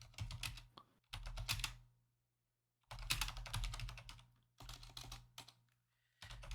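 Rapid keystrokes clatter on a computer keyboard in bursts of a second or two separated by silent gaps, close and moderately loud, during a tabletop role-playing session.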